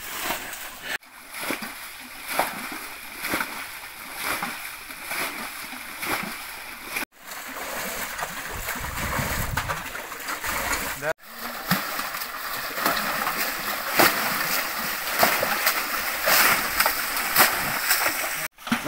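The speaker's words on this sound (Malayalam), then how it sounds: "ഈ തേകുന്ന സമയത്ത് ഈ വെള്ളം ഇങ്ങനെ കോരി ഒഴിക്കുന്ന സമയത്ത്" Water is scooped and splashed out of a river pool in a Kerala village to drain it for catching fish. Continuous loud splashing and sloshing carries on close by with voices mixed in.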